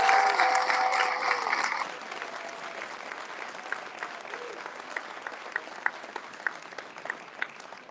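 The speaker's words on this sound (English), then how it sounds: "let's give a round of applause." Audience applause at an awards ceremony honoring a winner: a dense burst of clapping for about two seconds, then thinning into scattered, sparser claps that continue at moderate level through the end.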